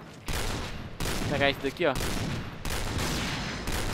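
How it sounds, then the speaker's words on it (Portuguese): Gunfire in the shooter game Point Blank, a quick burst of rapid shots that breaks off for a short spoken line and then resumes as steady firing. "Bang, bang, bang, tiro certo em você."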